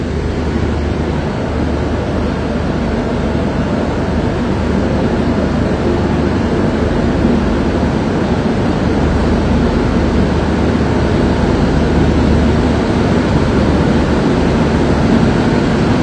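The Puri–Sealdah Duronto Express (train 22202) running, heard from inside a 2AC coach as a loud, continuous low rumble and roar that holds unbroken throughout with no voices.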